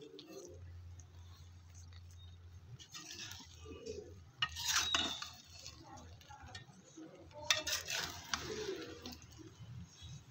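Chicken tikka rice biryani being stirred in a pot, soft scraping and clinking of a spoon against the pot in quiet bursts, close but faint, with a low background hum at the start.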